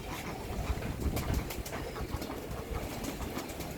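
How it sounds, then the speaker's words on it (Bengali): Pigeons fed on a rooftop garden during a spring storm with light rain give soft coos and wing flutters, close by, over a steady wash of wind and rain noise. "তাড়াতাড়ি কবুতরকে খাবার দিয়ে চলে যাচ্ছি"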